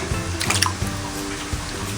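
Raw chicken pieces for biryani are washed in water, producing irregular splashes, drips and trickles at close range with small sloshing bursts and no talking.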